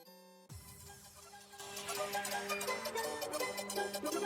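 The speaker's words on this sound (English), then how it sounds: "if there were a Nightcore Mario song, it would sound like this" A sped-up, high-pitched Nightcore-style take on a Mario tune bursts in after a brief tone, building into dense, bright electronic music with fast pulsing beats and busy chirpy melody, fairly quiet overall.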